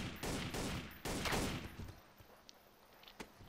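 Several gunshots fire in quick bursts in Counter-Strike: Source, loud sharp cracks in the first two seconds, then a couple of fainter isolated shots.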